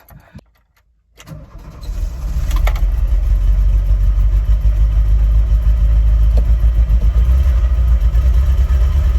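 A 1987 Volkswagen Vanagon engine cranking and catching after a brief quiet moment, then running at a loud, steady, slightly uneven idle close by with its temperature sensor unplugged.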